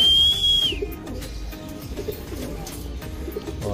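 Racing pigeons arrive at their loft and coo softly nearby, while a short whistle sounds at the start and faint fluttering and background noise run underneath.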